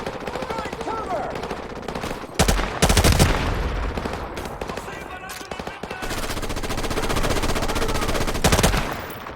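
Loud, close bursts of rapid automatic gunfire and single shots echo across a firefight in Call of Duty: Modern Warfare Remastered, with shouted voices in between.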